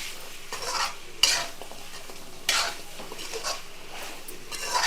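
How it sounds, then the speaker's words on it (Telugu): Chicken pakoda with curry leaves frying in hot oil, a steady sizzle broken by repeated scraping stirs of a utensil against the pan, close and fairly loud with no talking. "బాగా వేగుతున్నాయి, చాలా బాగుంటుంది."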